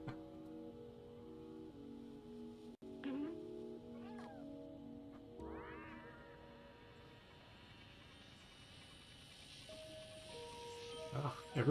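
A cat meows a few times in the video game Stray on PS5, rising and falling cries over soft sustained game music tones, moderately close and with no talking.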